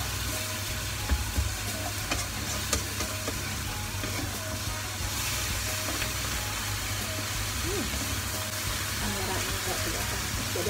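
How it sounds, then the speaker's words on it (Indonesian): Garlic chicken sizzles and fries in a chili spice paste while it is stirred around the pan, giving a steady, dense hiss. A voice speaks over the cooking throughout. "aku harus tunggu ini diaduk-aduk biar tercampur merata ya bumbunya"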